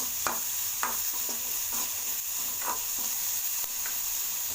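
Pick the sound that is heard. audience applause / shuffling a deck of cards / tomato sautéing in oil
tomato sautéing in oil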